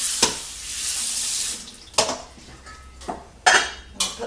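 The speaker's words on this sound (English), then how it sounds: "Now we're off to the sink to give them a rinse." Soaked chickpeas rinsed in a colander at a kitchen sink: a rush of running water, then a few sharp clattering knocks as the colander is tossed.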